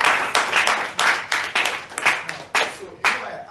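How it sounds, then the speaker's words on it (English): Audience applause at a faith-themed question-and-answer talk, a burst of clapping that swells and fades in uneven waves, fairly close and loud, with no voices over it. "Let's give a round of applause."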